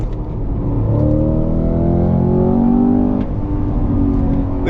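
A Cadillac CT5-V Blackwing engine pulls hard from low revs, its deep growl rising steadily in pitch and loudness as the car accelerates, then easing slightly, heard from inside with no voices.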